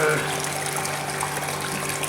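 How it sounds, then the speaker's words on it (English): Water drains out of a Fabdec tank washer with a steady, continuous rushing and trickling wash of sound, moderately loud and close, with a faint low hum underneath and no talk. "I might wait till that water's drained out"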